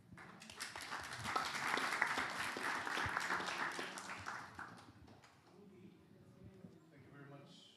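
An audience at a high-level climate panel with Pacific political leaders breaks into sustained applause, with many hands clapping densely for about five seconds before it thins out. Talk continues faintly afterward.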